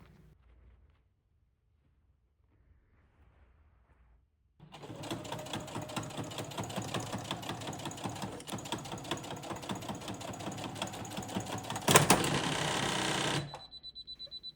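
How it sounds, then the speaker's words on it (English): Sewing machine stitching quilt binding through thick fabric, a steady loud mechanical whir with fast needle chatter running for about nine seconds after a quiet start, briefly surging louder near the end before easing off. "I was sewing through a lot of thick fabric"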